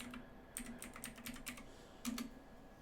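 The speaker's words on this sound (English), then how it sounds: "I want you to type in locomotion" Quick light keystrokes on a computer keyboard, a short run of about a dozen clicks at low level, close and alone without speech.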